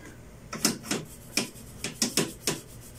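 A toothbrush scrubs air conditioner parts during home DIY cleaning, giving about eight short dry rasping strokes in an uneven rhythm, close and fairly quiet with no talk.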